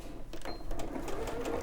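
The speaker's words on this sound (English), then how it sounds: "I'll just stand here and sew all day." A sewing machine stitches a softie bunny toy in a steady, close mechanical whir, running continuously for a moment with no clear talk over it.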